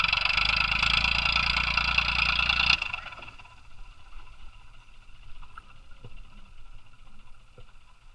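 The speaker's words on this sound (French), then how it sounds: "Eh oui, même le tracteur, il est enlisé." A tractor stuck in sand roars loudly at a constant engine pitch for nearly three seconds, then cuts to a much quieter low rumble with faint scattered knocks.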